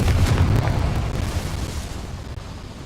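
A Confringo spell goes off in Hogwarts Legacy, a single loud, deep explosive boom at the start that rumbles and slowly fades out over a few seconds.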